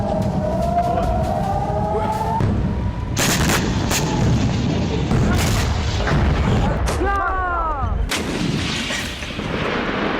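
Iranian missiles striking Tel Aviv at night, loud repeated booming blasts and sharp cracks over a constant roar, with rising and falling siren-like wails and shouting voices mixed in.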